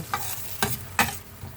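Boiled squid frying in a pan with butter and garlic for a tomato-paste dish, with a steady close sizzle broken by three or four sharp scraping stirs at irregular intervals.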